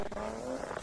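Drift car powered by a 700 horsepower 2JZ engine, competing at a Drift Kings Asia Cup round in Malaysia, gives a loud, steady engine roar with tire squeal, heard briefly and alone.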